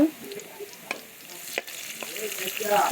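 Onion goes into hot oil in a pan for a pumpkin and potato vegetarian dish, making a soft, close sizzle broken by a few sharp clicks and stirring scrapes that grow slightly louder toward the end.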